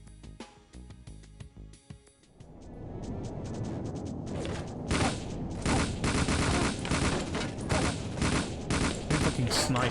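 Gunfire in the N64 game 007: The World Is Not Enough, starting after a quieter stretch of game music and building into dense, continuous rapid shots that stay loud to the end.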